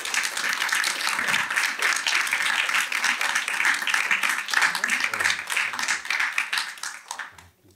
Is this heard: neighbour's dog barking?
no